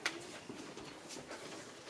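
Small birds calling outdoors at Le Teich, soft cooing and chirping notes scattered over a faint steady background, fairly distant and quiet.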